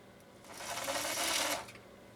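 A Husqvarna Viking 51E sewing machine stitches with an adapted bobbin, a steady close whirring run that rises, holds for about a second and then winds down.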